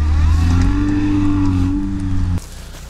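A Lada Niva engine strains hard at steady high revs while off-roading in a contest, loud and close, then cuts off abruptly near the end.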